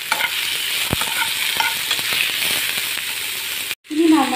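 Softened onions with tomato sizzle and crackle in a hot pan for a coriander and curry leaf chammanthi, with a steady close frying hiss and spatula scrapes, a short break near the end, then louder sizzling.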